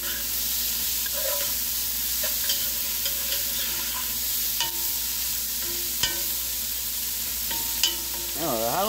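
Chicken and sausage sauce piquante is stirred in a pot, a soft steady sizzle with occasional scraping and tapping of a spoon against the pot, close by with no talk.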